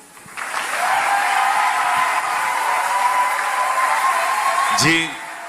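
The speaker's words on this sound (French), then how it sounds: "C'est ici que tu dois acclamer" A church congregation breaks into loud, sustained applause and cheering that swells quickly and holds steady for several seconds before dropping away, filling a large hall.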